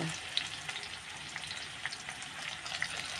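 A yellowfin tuna steak fries in a pan at home, giving a steady close sizzle with faint crackles and small pops throughout, no voices over it.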